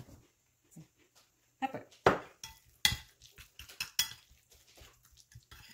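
Ingredients mixed with mayonnaise and pepper in a bowl for sushi rolls: scattered clinks and scrapes of a utensil against the bowl come in short irregular bursts, fairly close, with quiet gaps between them.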